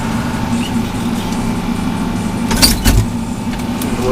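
A John Deere 4230 tractor engine runs at a steady pace with a constant close, low drone. Two brief louder knocks rise over it near the end.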